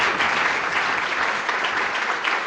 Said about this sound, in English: Can we please clap for ourselves in this,